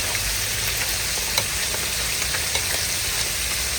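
Food sizzles steadily in hot oil in a home kitchen as fried items go into the pan, a dense, continuous crackle at close range with small pops and no voices.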